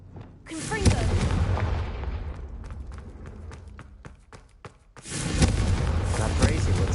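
A fiery Confringo spell blast in the Hogwarts Legacy video game lands as a loud booming impact, followed by crackling and thumps, then a second heavy burst of blast noise near the end.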